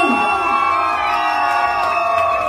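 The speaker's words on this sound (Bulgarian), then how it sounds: "Аплодисменти за Илиан!" At a birthday party a crowd cheers and shouts, a loud continuous roar of voices with sustained whoops and calls sitting over a faint layer of clapping.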